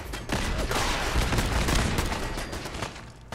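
Sustained, fairly distant volleys of gunfire in Fallout 4, a steady crackling fusillade with overlapping shots that holds at an even level for a few seconds before easing off.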